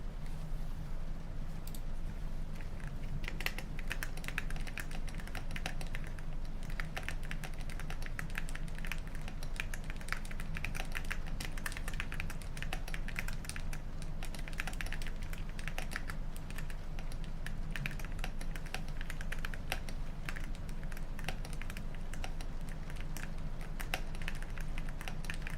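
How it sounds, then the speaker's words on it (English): Steady, rapid clacking of keys on a cat cake keyboard typed continuously for a long stretch, close and crisp, with a low background hum and no talking. "I got a new little cat cake keyboard."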